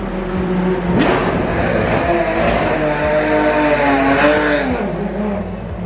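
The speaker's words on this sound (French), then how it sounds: "toutes les voitures qui tournaient derrière" Race cars lap the circuit at the 24 Hours of Le Mans, engines roaring and revving as they pass close by one after another under a constant loud track din.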